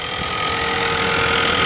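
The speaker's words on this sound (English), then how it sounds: "It does have like a little winding tick that you can hear." A 2019 Ford Ranger XLT's 2.3-liter EcoBoost inline four-cylinder, rated at 270 horsepower, idles with a faint ticking, producing a loud, steady, close hum with an even mechanical drone.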